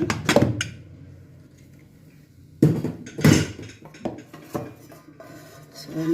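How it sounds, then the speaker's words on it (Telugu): A pressure cooker's whistle and metal lid being removed after cooking dal, giving a few sharp metallic clanks and knocks separated by quiet pauses, with a faint hiss in between. "ఒకసారి విజిల్ తీసి మూత తీసుకొని"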